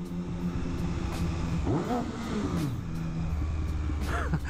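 A motorcycle engine, a naked bike heard from the rider's position, idles near a bridge repair crew, then snaps through several quick sharp revs that rise and fall, with a final blip near the end over steady idle.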